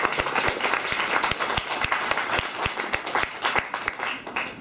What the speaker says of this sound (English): A clap for Steve, who's on the block.